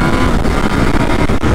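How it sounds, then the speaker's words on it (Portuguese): A Yamaha Tracer 900 GT motorcycle engine drones and revs continuously at close range, loud, rough and throaty, with no voices over it. "a Tracer 900 é uma moto que fala alto"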